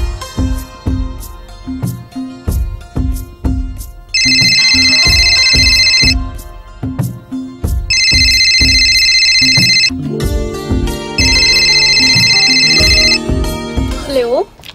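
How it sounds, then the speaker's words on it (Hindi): A telephone rings in three repeated electronic bursts while a call is being placed, set against a steady rhythmic music track in a Hindi short film scene. "पायल को फोन कर लेते हैं।"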